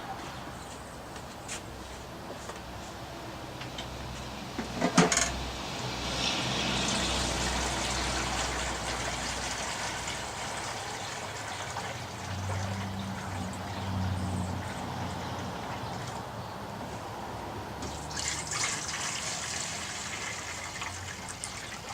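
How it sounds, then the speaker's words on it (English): Water poured into a leaking AirFryer-XL, a steady trickling and gushing stream with a sharp clatter early on, continuing near and moderately loud for the whole stretch with no talking. "Now, let me throw water in there."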